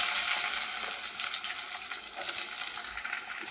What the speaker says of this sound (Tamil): இப்போ அரிஞ்சு வச்சுருக்கிற வெங்காயத்தை போட்டுக்கிறேன்